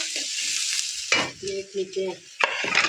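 Onions being stirred in a hot pan for chicken chowmein, with a steady loud sizzle and sharp scraping strokes of the spatula at close range, rising again near the end.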